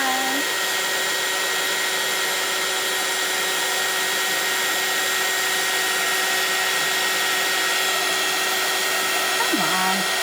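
A heat tool blows loudly and steadily as embossing powder melts on a card, giving a constant close fan roar with a high whine that holds throughout, while a faint voice talks underneath.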